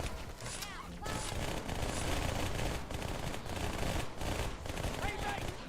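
Rapid SMG fire in Halo 2 shredding through mobs of grunts, a dense continuous rattle of shots layered with game effects and chatter, loud and close throughout.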